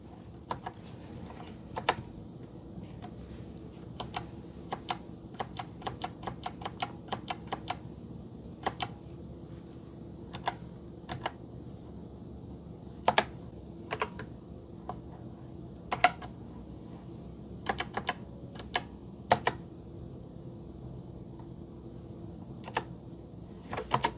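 Typing on a ZeroWriter Ink e-ink writing device keyboard, with irregular bursts of quick key clicks and occasional firmer single taps, close and moderately quiet over a low steady background hum.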